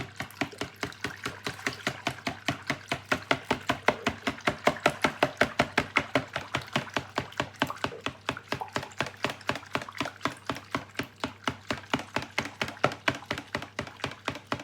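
A whisk beats a flan mixture by hand in a bowl, a steady fast rhythm of tapping strokes repeating evenly and close for the whole stretch.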